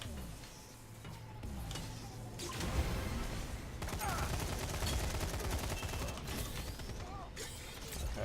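Gunfire in the multiplayer shooter Lawbreakers: bursts of rapid mechanical shots and clattering weapon fire over game noise, fairly quiet overall, with brief louder stretches.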